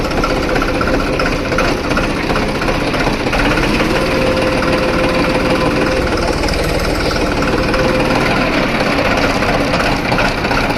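An old John Deere 5310 tractor, restored from scrap parts, runs steadily at close range with a loud, continuous engine drone and rough mechanical gear noise throughout, without speech.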